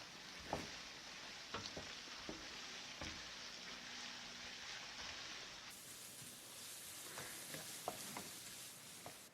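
Diced carrots tossed with lamb in a hot wok, a steady soft sizzle broken by several sharp scraping clicks of the spatula, fairly quiet and close, with no talking.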